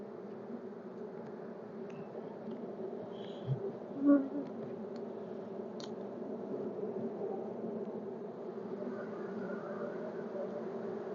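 A dense, steady hum of agitated honey bees swarms around an open hive, faint and continuous, with a couple of soft bumps from handling and no talking.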